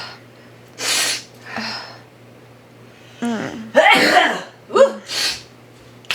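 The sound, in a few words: sneeze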